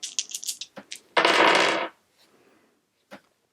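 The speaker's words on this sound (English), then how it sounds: "So I need to roll low so that I can use these red dice on it." Dice tumbling and clattering in a Tumble Town board game roll, several quick rattles followed by one loud sustained rolling clatter, then a single late click, with no talk.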